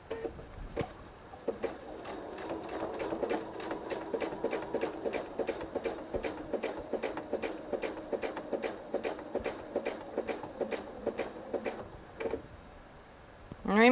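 A sewing machine stitches a jelly roll purse, its needle hammering out a steady fast run of even clicks for about ten seconds before slowing and stopping, close and fairly loud with no talking.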